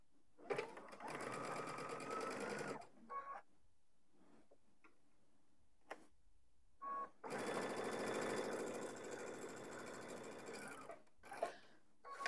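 A sewing machine stitches fabric for a children's Christmas stocking project, running in two steady mechanical bursts of about two and a half and four seconds, with quiet pauses and small handling clicks between them.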